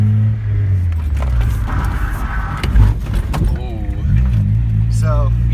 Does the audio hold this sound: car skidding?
yes